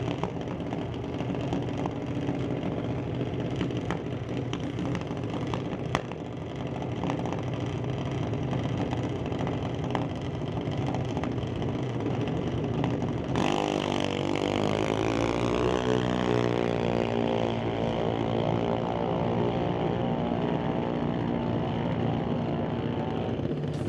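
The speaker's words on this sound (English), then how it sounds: "setting the RPM on Junior Dragster" A Junior Dragster engine revs up and holds high RPM at a drag strip test-and-tune event, loud and close, its steady roar rising into a sustained rev with no talk over it.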